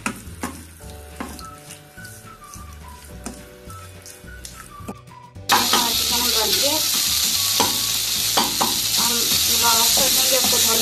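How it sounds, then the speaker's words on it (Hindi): Chicken tikka pieces hit hot oil in a pan for a loud, steady sizzle and frying hiss, with stirring clatter throughout; the first half is quieter and carries background music before the frying sound fills the second half. "अब इसमें चिकन डाल देंगे और इसको अच्छी तरह पका लेंगे।"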